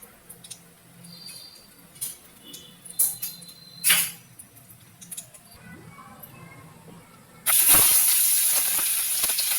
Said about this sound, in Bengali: তেলটা গরম হয়েছে ফোরনটা দিয়ে দিয়েছি